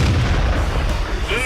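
A tank cannon shot in World of Tanks, driven by a VK 30.01 H, lands as a short, heavy booming blast that rolls off quickly, followed by faint mechanical noise.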